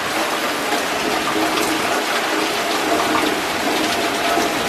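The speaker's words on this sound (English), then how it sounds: "It is pouring." Heavy rain pours steadily during a sudden Florida storm, a dense, continuous wash of falling water that stays loud and unbroken throughout with no voices.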